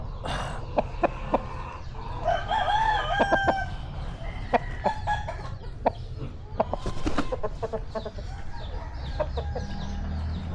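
Native chickens cluck busily nearby while a rooster crows a few times, with sharp, scattered calls over a steady outdoor backyard background.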